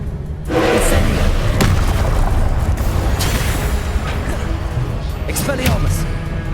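Incendio fire spell cast in Hogwarts Legacy, a loud roaring whoosh of magical flame with booming, thudding bursts over a continuous rumbling bed, sustained and close throughout.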